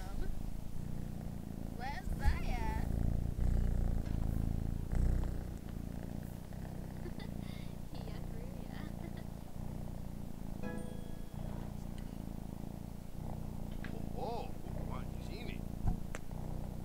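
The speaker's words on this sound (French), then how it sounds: "Mais lui, il pourrait ronronner comme ça pendant des heures." A cat purrs continuously at close range in the Les Sims 4 video game, a low rumbling purr heard under a person's quiet talk.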